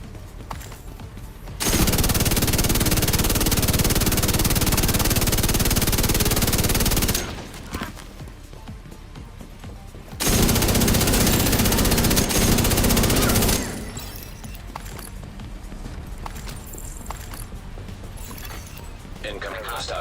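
Sustained bursts of automatic gunfire in The Division 2, two long loud stretches of rapid, dense shooting separated by a short pause, with quieter game sounds and a voice between and after.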